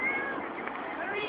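A person imitates a cat with a short, nasal meowing sound, close to the microphone, brief and moderately loud.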